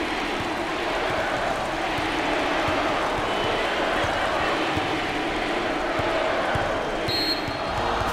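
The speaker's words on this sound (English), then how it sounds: "there's all kinds of people standing and cheering and going wacky" Basketball arena crowd at a West Virginia vs Kansas Big XII tournament game, a loud, sustained roar of cheering fans on their feet that stays full and steady throughout, with no distinct voices standing out.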